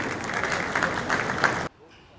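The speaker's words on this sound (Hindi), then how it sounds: "तालियों में कंजूसी मत कीजिए" An audience claps to welcome a speaker onto the stage at a community gathering, a dense steady burst of applause lasting under two seconds before cutting off abruptly into near silence.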